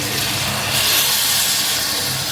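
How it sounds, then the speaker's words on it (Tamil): Water poured into a pan of sangu (conch) curry sizzles and hisses steadily, a loud broadband steam sound held for the full length with no talk. "இப்போ வந்து தேவையான அளவு தண்ணி சேர்த்துக்கலாம்."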